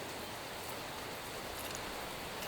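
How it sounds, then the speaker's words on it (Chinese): Rain falling steadily on a cool day in rural Xingtai, Hebei, a dense even hiss with no breaks, faint and continuous, with no voices. "今天下雨啊，别有一番情调"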